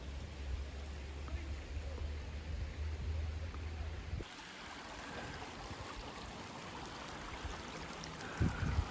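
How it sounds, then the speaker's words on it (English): Minister Creek in a hemlock-shaded forest gives a soft, steady rushing of flowing water heard from the bank, with a low rumble of handling noise in the first half and a few faint knocks near the end. "Here it is, Minister Creek."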